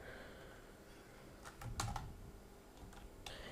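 Quiet clicking of computer keyboard keys as a poll answer is typed in, a few scattered light keystrokes with a small flurry in the middle, close and soft with no talking.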